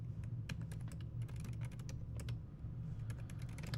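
Fast typing on a computer keyboard: a close, rapid stream of crisp keystroke clicks that runs continuously without pause.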